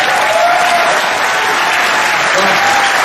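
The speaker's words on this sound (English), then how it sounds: "can we just have a big round of applause for our new coach?" A big round of applause from a cruise ship audience aboard the Carnival Mardi Gras for a new coach, dense and steady clapping heard close and loud throughout.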